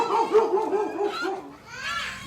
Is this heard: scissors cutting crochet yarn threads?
no